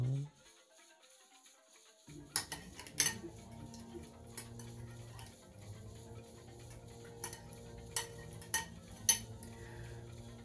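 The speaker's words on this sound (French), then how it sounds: "Et je remue tout simplement, je mélange bien." Spoon clinking against a bowl while balsamic vinegar and honey are stirred into a simple vinaigrette, a quiet run of light ticking taps after a brief silence, close and faint with no talk.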